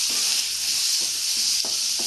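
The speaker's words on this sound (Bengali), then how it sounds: "আলুটাও আমি লাল লাল করে ভেজে নেব" Pointed gourd and potato pieces fry in a pan with a loud, continuous hiss of oil, broken by several soft knocks and scrapes from stirring.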